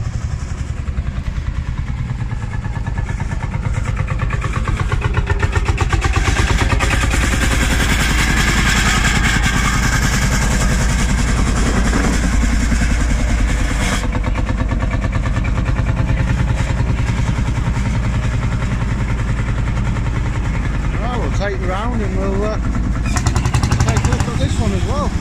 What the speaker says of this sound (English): Sound of these absolutely gorgeous tractors.